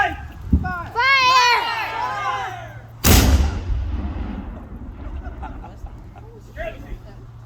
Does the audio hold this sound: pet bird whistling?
no